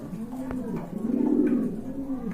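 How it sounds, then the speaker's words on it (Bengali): Pigeons coo steadily in a loft or market setting, a low rolling cooing that swells in the middle and carries on throughout, with a few faint clicks and no clear talk. "দেখেন তেজি কবুতর আর ভালো ডিম বাচ্চা করে"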